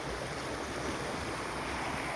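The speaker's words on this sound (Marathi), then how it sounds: "छोटीशी नदी बोलता येईल, धबका बोलता येईल असा डॅम बांधलेला आहे पूर्णपणे हा." Water rushes over a small dam on a little river in a quiet outdoor spot, a steady, soft, unbroken roar with no other sounds.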